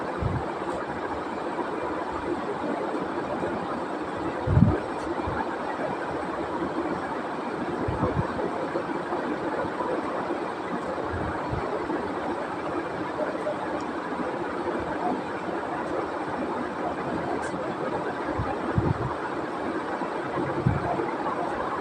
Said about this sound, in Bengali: এ পর্যায়ে আমি এই যে পেঁয়াজ কুচিটা ভালো করে ভেজে নেব।